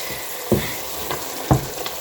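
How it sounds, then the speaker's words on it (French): Catfish in tomato sauce sizzles softly in a pot while being stirred, with two distinct scraping strokes of the spoon about a second apart over the steady low frying hiss. "Mais là, nous allons remuer le temps que la tomate puisse cuire."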